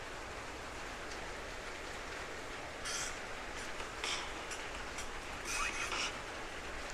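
Rain falling steadily as a dense, even hiss with a few brief louder spatters of drops, heard alone without voices.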